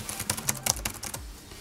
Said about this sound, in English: The only downside I had was when I was typing.